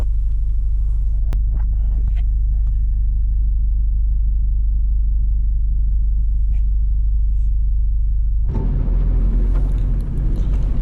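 A 4x4 drives along a road, its engine and tyres making a steady loud low rumble throughout, growing rougher and brighter near the end as the vehicle picks up speed.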